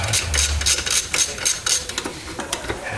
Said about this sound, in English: Then we grab our socket and we start taking out the cover bolts.